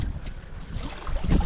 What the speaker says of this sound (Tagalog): Grabe lang yung lakas ng hangin.